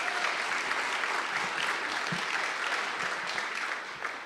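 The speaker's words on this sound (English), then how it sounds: "Let's give him a round of applause." Steady, dense applause from an audience at an opening-day gathering, loud and continuous for the whole stretch with no voices over it, tapering slightly at the end.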